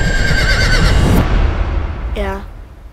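A horse whinnies from a German horse adventure film, a single rising-and-falling neigh near the end, heard over a loud music and ambient background after a burst of other sound.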